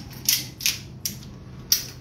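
The slide of a 2011 6.0 Infinity pistol is locked by hand during maintenance, giving four sharp, close metallic clicks spaced unevenly apart.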